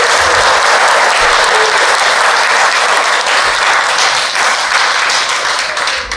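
Sustained, loud audience applause fills the hall at an India Day celebration, a dense wash of many hands clapping steadily with no talk over it.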